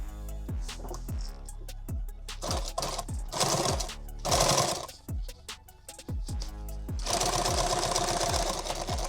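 A sewing machine stitches the edge of a pistol magazine pouch in repeated bursts, with short pauses between runs and a longer steady run at the end, loud and close.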